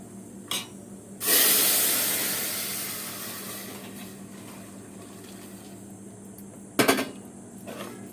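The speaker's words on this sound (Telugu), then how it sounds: "ఇప్పుడైతే చారు అందులో పోసేసుకుందాం" Rasam is poured into a hot pan of tempering, giving a sudden sharp hiss that slowly fades over several seconds, with a brief clatter of metal before it and a second clatter near the end, and no talking.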